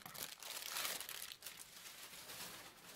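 Plastic wrapping being peeled off a roll of ribbon, a steady close crinkling and rustling that swells and eases for a few seconds, with no talk.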